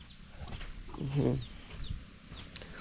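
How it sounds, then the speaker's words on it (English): Chickens cluck and murmur in an African village, a steady low chatter of fowl with a louder burst of clucking in the middle, over outdoor background noise and distant bird chirps. "we found some chicken, looking for the food"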